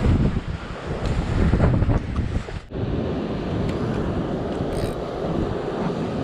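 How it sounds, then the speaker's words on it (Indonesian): Strong wind buffets a seaside cliff during bottom fishing for big fish, a loud continuous roar with heavy gusts battering the microphone throughout. "Anginnya ngawas, guys."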